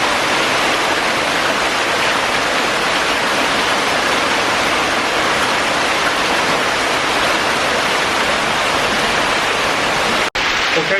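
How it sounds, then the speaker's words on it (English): Water from the Ashton Canal overflows into the River Medlock culvert, making a loud, continuous rushing roar that fills the underground space without a break. "The Ashton Canal is at a higher level and it overflows down here into the Medlock."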